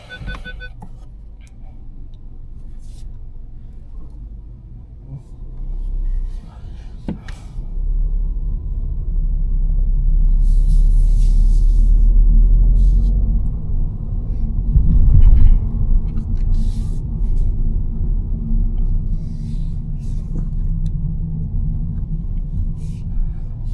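A 2025 VW T-Cross with a 1.0 TSI 116 hp engine and DSG gearbox drives slowly, its low engine rumble and road noise swelling and easing steadily from inside the cabin.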